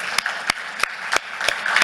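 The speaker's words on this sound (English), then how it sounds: "Please give him a round of applause to welcome him." Audience applause welcoming Botswana's Minister of Industry and Transport at a mining industry outlook event, steady crowd clapping with a few sharper individual claps standing out, moderately loud throughout.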